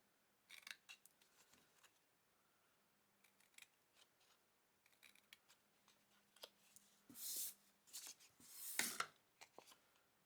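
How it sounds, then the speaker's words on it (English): Scissors cutting through scored card, a series of quiet, crisp snips coming in irregular clusters close by, with a couple of louder rustling cuts near the end. "I tend to try and cut down the centre of the score line."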